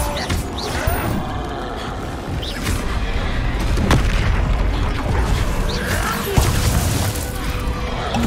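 Confringo explosion spells bursting during a Hogwarts Legacy duel, a dense run of booms and crashes layered over continuous game battle noise with no clear gaps.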